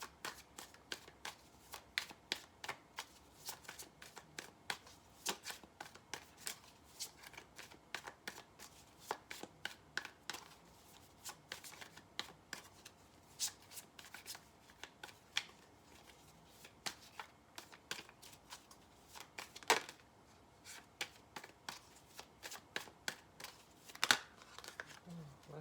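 Tarot cards shuffled by hand in quick, crisp riffling bursts, with brief pauses between flurries. The sound is close and clear, with occasional sharper card snaps and a person speaking softly at moments.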